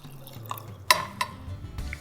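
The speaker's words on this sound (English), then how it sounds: "I'm slowly adding the water, making sure my eggs are covered" Water being slowly added to a pot holding eggs, a few scattered drips and splashes with one sharper splash, close and fairly quiet over low background noise.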